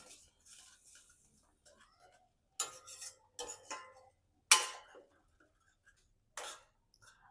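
A spoon scrapes and clinks against a pan while white sauce pasta ingredients with chili flakes and oregano are mixed, in several short separated bursts of clattering with quiet gaps between them, close and fairly loud.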